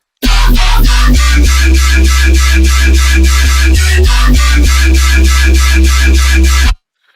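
A loud, dense synthesizer pattern with a heavy sustained low bass and bright rhythmic chords pulsing steadily, ending abruptly into silence.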